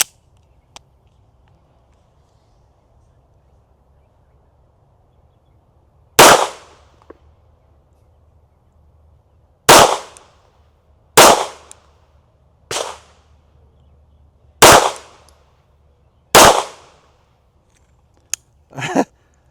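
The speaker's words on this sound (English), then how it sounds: "I'm gonna give myself 5 shots to hit this Hemi card from 25 yards." A Bersa 2011 (M2XI) pistol fires outdoors at a target 25 yards away, with six sharp loud shots spaced a second or two apart and one fainter pop at the end, separated by near silence.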